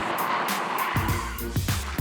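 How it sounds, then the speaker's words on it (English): A car squeals its tires through a handbrake 180-degree spin-out on a driving course, with a loud, sustained skid over the engine's roar, close by. "Canada's worst drivers have learned how to do a 180-degree spin-out by using their handbrake."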